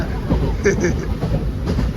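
A train rumbles along with a steady low roar and rattling, loud and close, heard from inside a carriage during monsoon rain.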